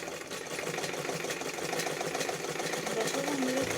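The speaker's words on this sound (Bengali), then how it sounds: "এরপর আমি তোমাদেরকে সুতোটাকে সেলাই করে দেখাবো।" A sewing machine stitches thread with a quiet, fast and steady mechanical whirr, heard close up and running continuously.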